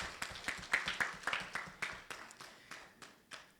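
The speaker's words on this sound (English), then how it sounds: "Let's give them a round of applause." Scattered audience clapping at a World Population Day 2022 celebration program, a few dozen sharp, separate claps that thin out and grow sparser, fairly faint and with no voices over them.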